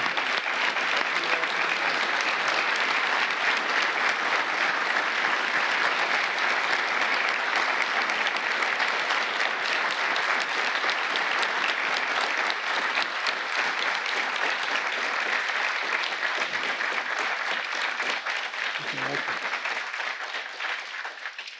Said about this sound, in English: let's give one last big round of applause to the recipients